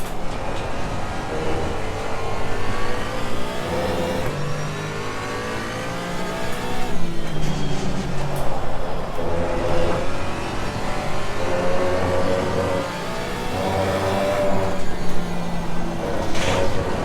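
Porsche Cayman GT4 racing engine in Assetto Corsa Competizione, revving up and down continuously through gear changes and braking, loud and close with a steady mid-pitched drone over about seventeen seconds.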